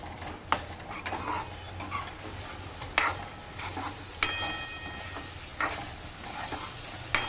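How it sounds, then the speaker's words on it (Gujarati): Turmeric and spices being stirred in a frying pan for a potato curry: a steady sizzle with repeated sharp metal scrapes and clanks of a utensil against the pan, close up and with no speech. "એ પછી હળદર એડ કરવાની છે અને બધું મસાલા સરસ રીતે મિક્સ કરી દેવાના છે."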